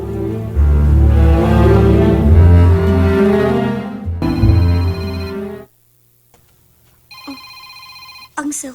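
A cellphone rings with a repeating melodic tone at close range, heard over loud dramatic music and voices, then after a short gap the ringtone sounds alone and clearly.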